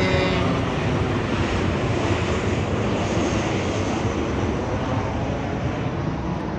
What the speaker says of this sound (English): Wow, there's the airplane.